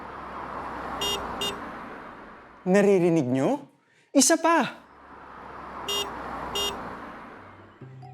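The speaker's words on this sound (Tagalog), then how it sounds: "Iyon ay tunog ng kotse." A car sound plays in two stretches with a steady noisy hum and short repeated beeps, separated by a brief spoken question in the middle.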